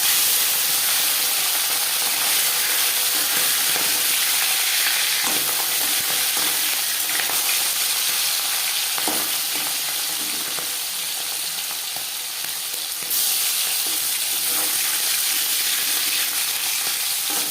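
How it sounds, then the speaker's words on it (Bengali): Fish sizzles loudly in hot refined oil, a dense, steady frying hiss close up with small crackles throughout and no voices. "মাছ ভাজবার জন্য বেশ খানিকটা রিফাইন্ড অয়েল"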